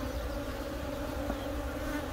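Honeybees drone steadily around an open hive during a canola-season colony split, a dense, continuous buzz close by with no pauses and no voices.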